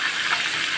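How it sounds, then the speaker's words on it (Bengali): Fish heads frying in hot oil in a pan, a steady close sizzle with a bright hissing crackle that holds evenly through the short moment. "মাছের মাথাগুলোকে ভালো করে ভেজে নিচ্ছি।"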